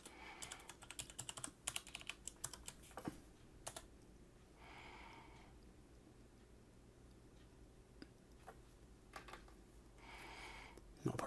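Quick bursts of computer keyboard typing as a password is entered, clustered keystroke clicks at the start and end with a quieter gap between, fairly close and with no talking.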